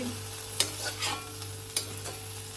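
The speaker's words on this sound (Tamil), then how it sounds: "இப்போ இதை வந்து தாளிக்கணும்" Oil sizzles in a pan while a spoon stirs and scrapes through pumpkin stir-fry being tempered in a few quick strokes, close by.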